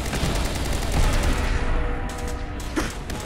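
Gunfire in the game Fallout 4, with loud rapid bursts of automatic fire and overlapping shots crackling densely at first, then thinning into a few sharper reports near the end.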